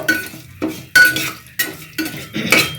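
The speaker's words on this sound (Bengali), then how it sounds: "এগুলো জাস্ট হালকা করে আমি কিন্তু নেড়ে নিচ্ছি" Repeated scraping and clattering of a utensil against a pot as pulao ingredients are lightly fried, about six strokes in a loose rhythm, close by with no talking.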